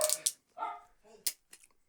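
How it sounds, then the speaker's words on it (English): A studio dog in a recording studio lets out a few short, sharp barks and yips in quick bursts, fairly close and moderately loud, separated by brief pauses. "in the background you have our studio dog Jeppe"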